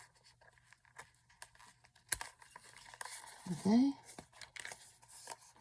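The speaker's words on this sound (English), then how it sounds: "Take the little scissors, and we can just trim this off." Small scissors trim paper, a few quiet snips and crinkles under a brief spoken word, with one sharper click near the middle and soft rustling of the paper being handled.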